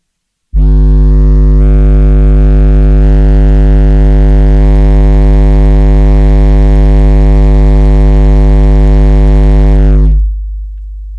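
A single 6.5-inch speaker driven with just under 600 watts in an enclosure blasts a 50 Hz test tone, a steady, extremely loud droning hum with strong harmonics that holds for about ten seconds before cutting off.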